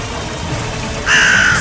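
Crow or raven giving a single loud, drawn-out harsh caw close by, rising sharply over a low ambient background.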